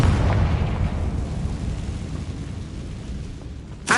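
A loud Confringo fire spell blast in the video game Hogwarts Legacy, a dense low rumbling explosion that fades slowly over several seconds before a sharp new burst at the end.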